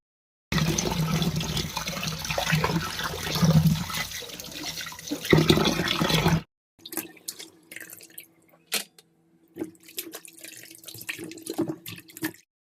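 Chicken pieces for biryani rinsed under a running kitchen tap, a steady loud gush of water for several seconds, then broken splashing and dripping as the pieces are handled in the sink.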